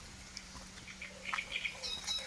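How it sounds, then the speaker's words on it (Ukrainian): Faint bird chirps and short calls scattered over a quiet hum, some distant, a few brighter tweets toward the end. "Чуєте, як пташки співають."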